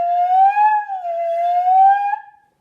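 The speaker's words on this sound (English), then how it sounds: "I can even make funny sounds like this." A flute head joint played alone bends a single breathy tone up and down in a wavering, siren-like slide, sustained for about two seconds before fading out.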